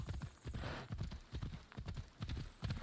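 A horse gallops in Assassin's Creed Odyssey, its hooves thudding in a steady, quick clip-clop rhythm, fairly quiet and heard alone without voices.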